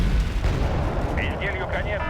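Artillery barrages in Wargame: Red Dragon, a dense rumbling run of booms and blasts across the whole stretch, with faint higher-pitched whistles or tones near the end.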